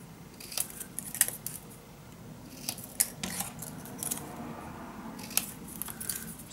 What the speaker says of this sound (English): always like to cut these in a corner.